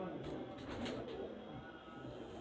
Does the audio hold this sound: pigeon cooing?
yes